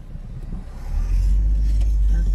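Car approaching along a city street, a deep low rumble that builds and stays loud as it draws near, heard from inside a moving vehicle with faint background noise.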